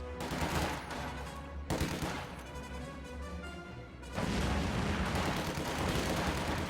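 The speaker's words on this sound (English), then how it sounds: "infantry shooting at us!" Infantry gunfire rattles through a real-time strategy battle, dense overlapping bursts of rifle and machine-gun shots with heavy booming impacts, loud and continuous, with brief lulls between volleys.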